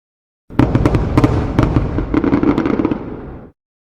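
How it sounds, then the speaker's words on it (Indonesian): Fireworks burst outside a window in a loud, rapid crackling volley of pops and bangs lasting about three seconds before cutting off abruptly. "Kembang api?"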